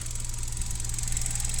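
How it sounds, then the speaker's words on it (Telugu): A used car, single-owner, idles smoothly and quietly, a steady low engine hum with a faint even whir on top, continuous and close with no speech. "ఇంజన్ సౌండ్ కూడా స్మూత్, సైలెంట్ ఉంది."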